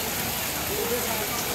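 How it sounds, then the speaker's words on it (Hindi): Steady broadband patter of water falling on leaves at Saheliyon ki Bari garden in Udaipur, like light rain, continuous and fairly close, with a faint voice in the background. "ये पत्तों पे जो पानी गिरता है, ये जो आवाज़ बनती है, इससे बरसात का जैसा लगता है।"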